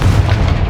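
Confringo spell explosion in Hogwarts Legacy, a short, loud, deep boom that fills the brief moment with low rumbling force.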